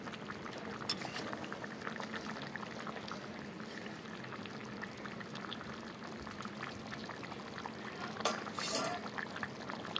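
Vegetable curry with beans and potatoes boils up in a pot, a steady bubbling and burbling with liquid churning, moderately close, and a brief louder surge near the end.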